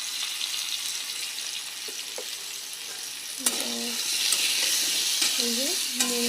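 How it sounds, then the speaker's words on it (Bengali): Potatoes frying in oil in a wok, given salt and turmeric, with a steady close sizzle throughout and a few clacks of a spatula stirring and scraping the pan, louder in the second half. "এই যে কড়াইয়ে তেল দিয়ে আলুগুলোকে ইয়ে করে নিচ্ছি, ভেজে নিচ্ছি।"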